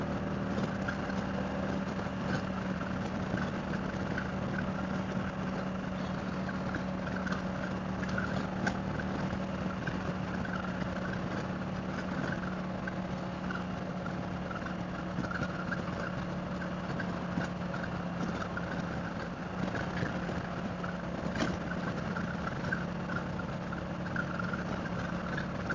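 Steady engine drone from a Harley-Davidson Street Glide motorcycle riding through Phoenix at night, a continuous low hum with wind and road noise, even in level and unbroken, with no talking.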